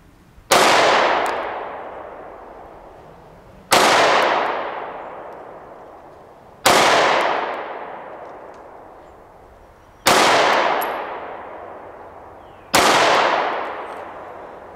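An HK VP9 SK 9mm pistol fires five loud, sharp shots at an outdoor range, evenly spaced about three seconds apart, each trailing off in a long echoing decay.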